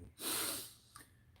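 One person gives a single sharp, breathy snort or sniff through the nose, heard close and fairly quiet, followed by a faint second intake of air.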